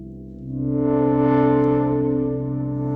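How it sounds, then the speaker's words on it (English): A held Vongon Replay synthesizer chord swells and lingers, its tone smeared into a long-decay, washy reverb tail that keeps sounding steadily. "Let's add the reverb."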